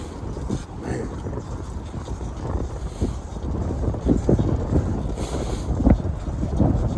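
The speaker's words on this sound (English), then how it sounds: "I guess this is north direction because I feel that wind right in my face" Wind buffets a microphone during a cold outdoor ride, a continuous low rumbling roar that swells and gusts heavier in the second half, close and loud with no speech.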